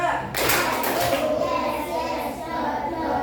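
Children clapping together in a classroom, a burst of claps near the start under children's voices chattering through the rest.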